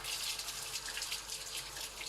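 Hot water runs steadily from a tap in a continuous, fairly quiet hissing splash, alone and unbroken for about two seconds.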